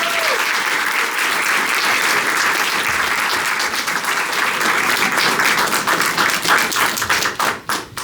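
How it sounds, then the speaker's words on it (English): An audience applauds a professor at a talk on race and justice, a dense, loud, steady wash of clapping that thins into a few scattered, sharper claps near the end. "Please join me in giving a round of applause to Professor Deborah."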